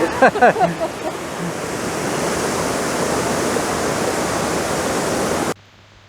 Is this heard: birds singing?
no